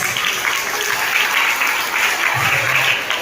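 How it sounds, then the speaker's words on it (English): Big round of applause from an audience at a Yoga Day 2025 event, continuous loud clapping with a faint voice briefly underneath. "I would like for everyone to give them a big round of applause."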